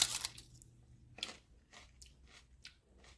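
Bites and chewing of homemade bacon-wrapped asparagus, a sharp crunchy snap at the start followed by several soft, irregular chewing crunches, close up and fairly quiet, with no talking.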